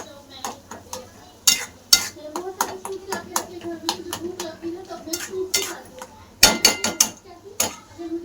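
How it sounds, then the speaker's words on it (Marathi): Goat brain is sautéed in a pan, with quick clinking spatula strokes and scraping against the metal in an irregular rhythm, close by, while a person talks in between. "चांगलं परतून घेऊ भेजा"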